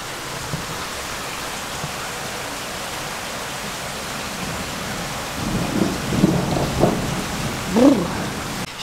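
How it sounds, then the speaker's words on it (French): A thunderstorm with steady heavy rain hissing throughout, then deep thunder rumbles rolling in and swelling near the end. "Cachou, ça va sauter, ça va tonner."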